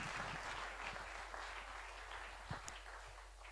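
Audience applause at a conference on digital innovation in Rimini, a steady broadband patter of many hands clapping that holds at a fairly even level throughout.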